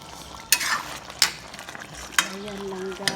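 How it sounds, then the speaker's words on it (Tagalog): Homemade chicken curry with thick, sticky sauce being stirred in a pan, with a few sharp utensil scrapes and knocks over a low simmering sizzle. "Halo-haloin lang natin para hindi nasunog yung ilalim kasi na siya guys, sticky na siya."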